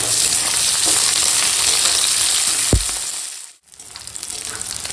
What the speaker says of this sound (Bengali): তো দেখো এখন এই পেঁয়াজের ফোড়নটা ভাজা হয়ে গেছে